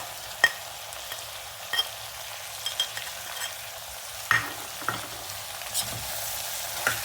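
Spices including coriander powder, turmeric, chili powder and sesame powder are stirred in a frying pan for a yam curry, with a soft sizzle under several distinct spatula scrapes spread irregularly across the stretch.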